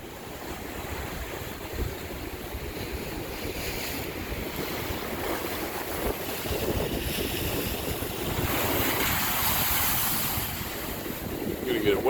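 Ocean waves break near the north jetty of an abandoned harbor on a rugged coast by the Coquille River light, a continuous wash of surf with wind buffeting the microphone, swelling louder partway through.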